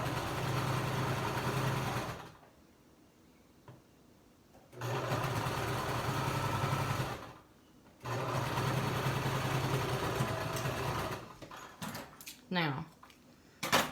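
A home sewing machine stitching a tie onto a fabric mask runs in two steady buzzing bursts of a few seconds each with quiet pauses between, followed by short rattling stops and starts, close and fairly loud.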